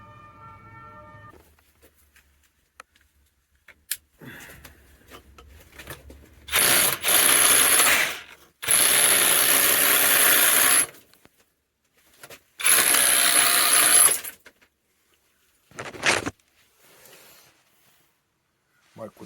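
A Seesii cordless rotary hammer rated 4.3 J with 5000 mAh batteries chisels into a solid wall in three loud bursts of hammering, separated by quiet pauses with scattered small knocks and handling sounds.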